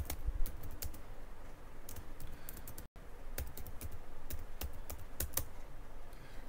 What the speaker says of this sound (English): Type here your password.